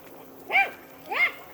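A dog barks twice, spaced about half a second apart, fairly close and clear against a quiet background.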